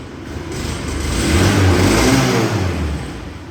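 Daelim Daystar 125 motorcycle engine idling steadily up close, a low continuous rumble that swells slightly in the middle and then settles, with no talking.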